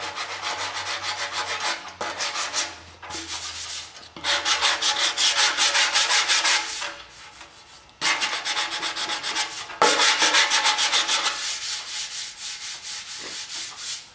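Hand sanding of body filler on auto bodywork, a steady close rasping scrub in long back-and-forth strokes with brief pauses between passes, loud and alone.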